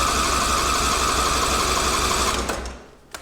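A Cub Cadet 1440 riding mower engine cranks steadily at full throttle during a compression test, a fast even chugging rhythm that runs loud and continuous before winding down near the end.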